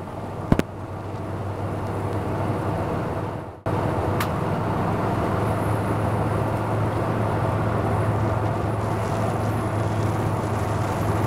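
A 1974 Chevrolet half-ton Fleetside pickup cruising on the I-5 highway near Seattle, with a steady engine drone and road roar heard from inside the cab, continuous and fairly loud with a brief dropout partway through.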